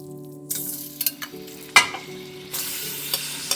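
Lamb mince keema sizzles in hot ghee in a pan as it is stirred, a close, bright frying hiss broken by a few scraping stirs and clatters, with no talking.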